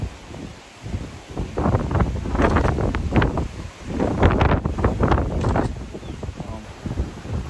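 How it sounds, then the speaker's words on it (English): Strong wind buffets the microphone outdoors in heavy rumbling gusts that rise and fall, loud and close throughout, with a voice partly buried in the noise. "Oh, it's so windy."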